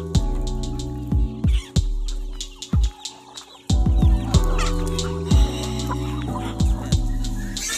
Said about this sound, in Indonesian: Lihat semua ayam itu, semuanya datang, ada ayam, ada bebek, ada Guinea juga.